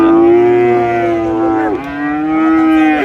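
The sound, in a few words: Friesian cattle mooing at a cattle market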